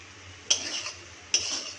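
A spoon stirring pasta with fried eggs in a pan, two short scraping strokes close by over a faint sizzle, no voices.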